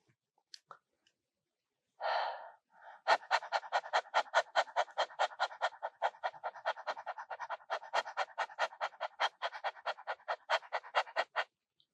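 A person imitates a dog's panting breath for a yoga exercise, with a few opening puffs and then a long, fast, even run of short, breathy pants, close and fairly quiet.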